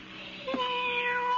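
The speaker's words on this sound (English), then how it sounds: "All that meowing." A cat meows once, a short rising cry that trails into a longer wavering call, close by against a faint background hum, with no one talking.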